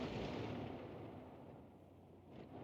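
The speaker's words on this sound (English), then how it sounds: "You can hear the shells coming in from the other Arty on our team" Artillery shells landing in World of Tanks come through as a low, rolling rumble of distant impacts, loudest at the start and then fading into a steady dull roar, with no talking.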